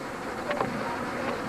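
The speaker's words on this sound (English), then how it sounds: "Quite a few bees in there." Bees buzz inside a farm building, a faint, steady insect hum with a few brief louder swells close by.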